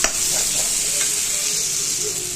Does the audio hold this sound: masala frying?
yes